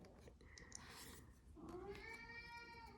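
A cat meows twice, a short faint mew and then a longer, clearer rising meow nearby, with quiet room noise behind it.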